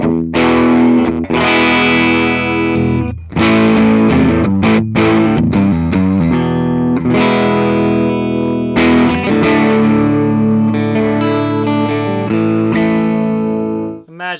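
A 2008 Gibson SG V Zakk Wylde electric guitar in gunmetal grey, with EMG pickups and the volume at 10, plays loud distorted chords and riffs with brief gaps between phrases, saturated and sustained.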